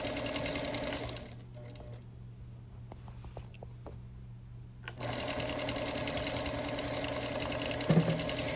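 A sewing machine stitches quilting around a printed flower, a fast steady whir that stops for a few seconds of near-quiet with light clicks before the machine starts running again.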